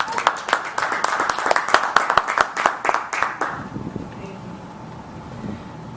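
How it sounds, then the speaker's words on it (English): A live audience at a business talk claps for several seconds, a dense crowd patter that starts loud and then dies away, leaving faint room noise. "And let's applaud for him."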